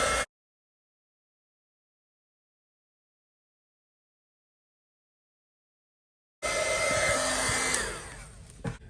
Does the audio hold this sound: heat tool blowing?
yes